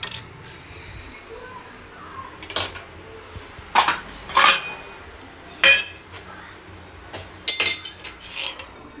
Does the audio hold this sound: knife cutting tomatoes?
yes